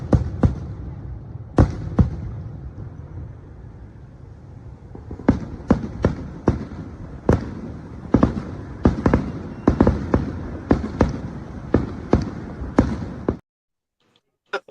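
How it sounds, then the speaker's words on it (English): Fireworks played back over a livestream, a string of sharp, loud bangs and crackles, sparse at first then coming in quick bursts before cutting to silence, with no talk. "That's the fireworks for you, man."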